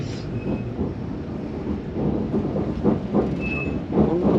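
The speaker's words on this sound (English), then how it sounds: "On one of the new adventure trains" A passenger train on the London Fenchurch Street line runs steadily, a low continuous rumble of wheels and carriage noise with faint brief squeals, heard from onboard.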